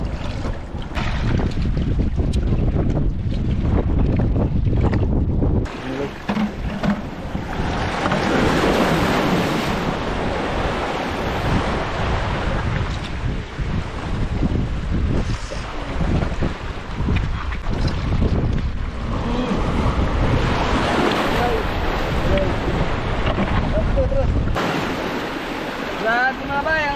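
Big ocean waves surge and crash at sea while strong wind buffets the microphone, a constant loud roar with swelling rushes of surf from a boat.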